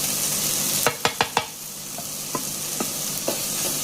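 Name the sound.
tomato and spice masala frying while being stirred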